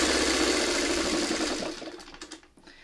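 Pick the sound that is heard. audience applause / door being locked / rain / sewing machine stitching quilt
sewing machine stitching quilt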